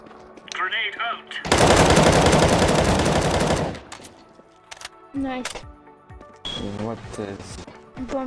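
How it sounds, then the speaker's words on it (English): Loud burst of automatic gunfire in the game Counter-Strike: Global Offensive, a dense rattle lasting about two seconds, followed by a few short separate shots, with players' voices chatting around it. "Shooting."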